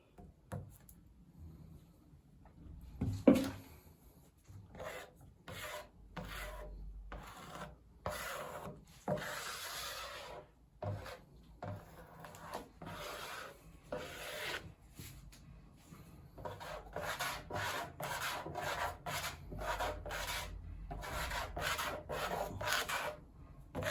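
Repeated rubbing strokes spread resin across a wooden surface in an uneven rhythm, close and fairly quiet, with no voices.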